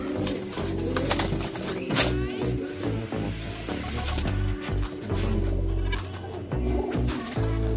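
A female racer pigeon coos repeatedly at close range, a rolling, throaty murmur that swells and pulses over a busy, noisy background with other birds around.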